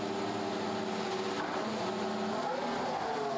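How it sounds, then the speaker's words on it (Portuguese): Charles Leclerc's Ferrari Formula 1 car on track during third practice at the 2024 Bahrain Grand Prix, a loud sustained high-pitched engine whine that holds steady and shifts slightly in pitch. "Ferrari do Leclerc está na pista"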